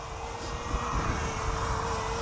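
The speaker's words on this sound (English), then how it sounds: "We got a drone." A DJI Mavic Mini drone in flight gives off a steady, high propeller whine with a whooshing edge, a continuous buzz that stays at a constant level throughout.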